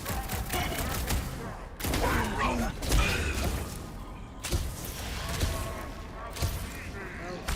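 Repeated bursts of gunfire in the Guardians of the Galaxy video game, loud and dense amid clanking mechanical game effects, with a voice talking over parts of it.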